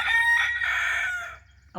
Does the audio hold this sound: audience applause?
no